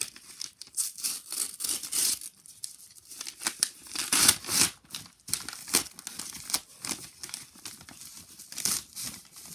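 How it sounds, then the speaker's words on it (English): Plastic wrapping is pulled off a football programme, with bursts of close crinkling and crackling in irregular handfuls, some louder rustles and quieter pauses between them. "Take out the plastic, take out this cardboard."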